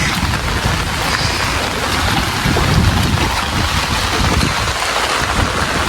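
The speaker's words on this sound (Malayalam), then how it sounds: "നല്ല മഴയുണ്ട്." A loud, constant roar of heavy rain mixed with wind buffeting the microphone, unbroken for several seconds with no speech, in a flooded area.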